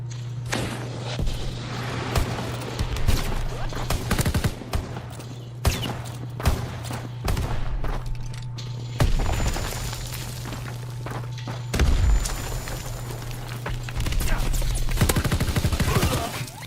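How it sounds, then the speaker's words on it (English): Video game gunfire with one player shot at continuously, rapid bursts of loud shots over a steady low hum, recurring in clusters across the stretch. "He's got a guy just shooting him the whole time."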